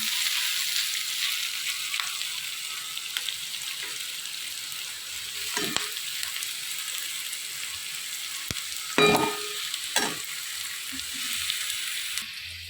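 Vegetables for veg hakka noodles, including capsicum, fry in a pan with a continuous hiss close by. Sharp stirring clanks and scrapes break in at intervals, and no voices are heard.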